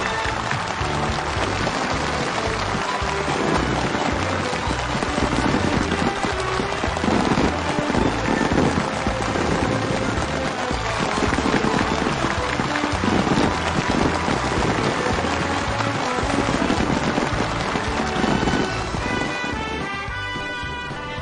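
Dense, sustained applause from a large crowd at a new factory's ribbon-cutting ceremony in Kumya County, an even roar of many clapping hands that holds steady for about twenty seconds before thinning slightly at the end.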